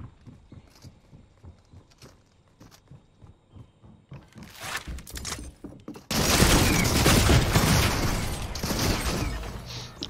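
Primitive shotgun fire in Fortnite: soft rhythmic footsteps and clatter give way to a sudden loud, sustained roar of blast noise that fills the last four seconds.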